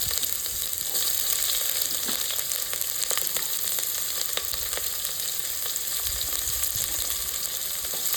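Chopped onions frying with cumin and mustard seeds for street-style pav bhaji, a steady, close, dense sizzle with faint crackles throughout and no talk.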